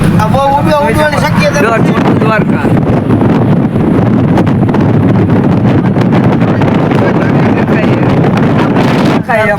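Strong wind roars and buffets the microphone throughout near a windmill, with a person talking over the gusts.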